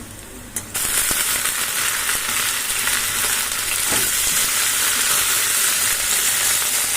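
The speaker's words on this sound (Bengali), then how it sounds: "ফোড়নে দিলাম পাঁচ ফোড়ন আর শুকনো লঙ্কা আর পেঁয়াজ আর কাঁচা লঙ্কা দিয়ে দিলাম" Panch phoron, dried chilli, onion and green chilli hit hot mustard oil and burst into a loud, dense, continuous sizzle after a brief quieter moment, close and steady with no talking.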